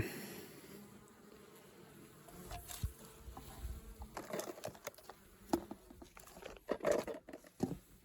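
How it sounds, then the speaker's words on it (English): Honey bees hum inside a winter beehive during an inspection, a low steady buzz close by, broken by frame knocks and handling clatter that grow louder and more frequent. "there's probably about 4 frames worth of bees up the top"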